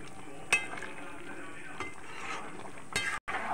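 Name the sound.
ghee and garam masala with fried cashews sizzling in pan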